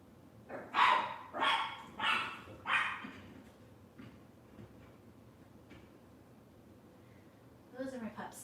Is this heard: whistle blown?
no